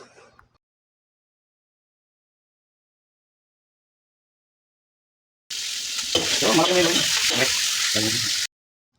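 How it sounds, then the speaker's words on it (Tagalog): Tomato cooking down in a pan for adobong pusit, a sizzle with a few stirring scrapes and a voice talking over it, lasting about three seconds after a long silence. "Cook the tomato until the tomato become wilted or the skin start to separate from the pulp"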